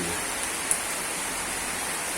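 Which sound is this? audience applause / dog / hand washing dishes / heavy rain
heavy rain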